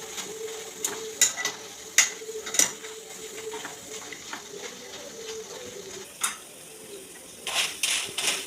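Banana chips frying in hot oil with turmeric water added, a soft steady sizzle with scattered clinks and scrapes of a utensil stirring in the pan, faint and close.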